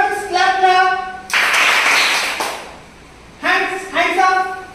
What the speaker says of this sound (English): Students, clap, clap.